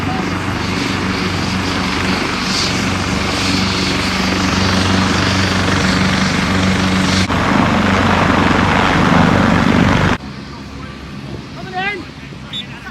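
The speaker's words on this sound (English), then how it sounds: "So the game has been paused because a helicopter has landed on the field" A helicopter sets down on a football pitch during an amateur match, its loud, steady rotor and engine roar filling the air before cutting off abruptly, leaving faint voices and outdoor ambience.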